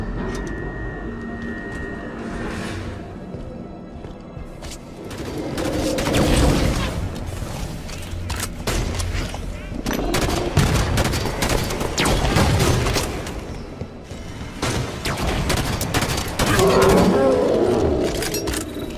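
A Halo 5 firefight against Hunters brings continuous loud gunfire and heavy booming impacts, with game music and effects layered under occasional voice lines.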